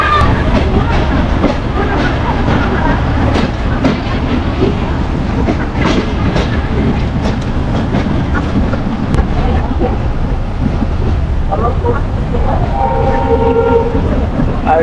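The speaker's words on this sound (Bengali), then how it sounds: "এটা মূলত চাপাই থেকে রাজশাহী যাওয়ার লোকাল ট্রেন" A local passenger train from Chapainawabganj to Rajshahi, Bangladesh rumbles steadily along the tracks with rhythmic clatter, loud and close, as if heard from inside a carriage.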